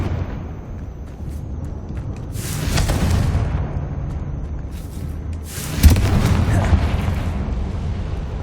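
A Confringo explosion spell in Hogwarts Legacy. Two loud, fiery blasts arrive a few seconds apart, each with a sharp crack and a rumbling tail. A voice is heard faintly in the background between them.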